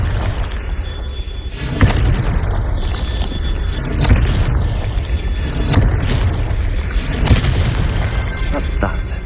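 Confringo blasting spells exploding in the Hogwarts Legacy video game, a series of deep booming blasts roughly every two seconds over a loud, dense rumbling background.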